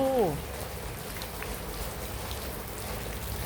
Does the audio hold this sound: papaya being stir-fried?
no